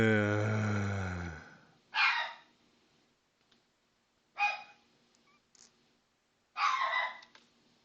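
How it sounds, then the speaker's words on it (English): A dog barks indoors three times at spaced intervals, each a short loud burst, following a brief stretch of a person's voice at the start. "Sorry about the dog barking."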